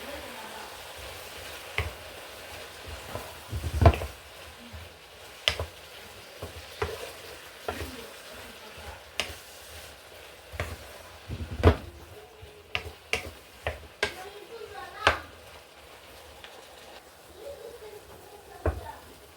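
Onion with yellow, red and green peppers stirred in a pan, soft sizzling broken by irregular scraping and utensil knocks against the pan, fairly quiet and close.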